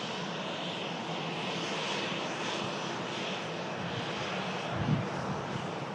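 A Ryanair Boeing 737 jet roars steadily at Manchester Airport, a broad sustained engine rumble heard from a moderate distance without pause.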